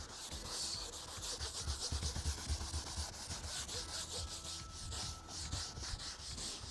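Scrub Ninja scrubber worked hard over a car's interior surfaces, giving rhythmic back-and-forth rubbing strokes at close range, fairly quiet and steady with no voices.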